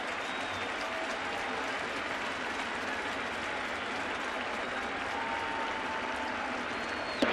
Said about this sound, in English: You hear that rhythmic applause when a hitter against Tanaka gets 2 strikes